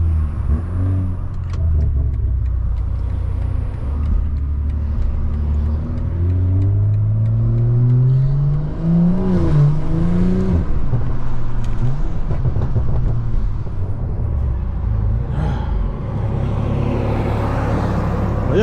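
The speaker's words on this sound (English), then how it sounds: "we roll the window down a little bit, just so y'all can hear these turbos and stuff" A tuned 500hp BMW M340i with a downpipe and turbos accelerates steadily in traffic, its pitch climbing through the gears, loud and close, with a continuous rumble and no talking.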